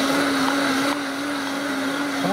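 A Vitamix blender runs at high speed as a steady, loud motor whine with a sustained tone, slightly dropping in pitch partway through, with no talk.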